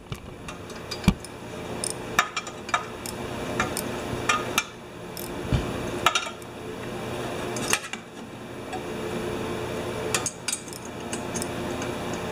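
Metal clicks and taps from a 7/16 wrench tightening bolts while repairing a Sears Platinum mower, a series of irregular close ratcheting knocks spaced a second or two apart, no talking.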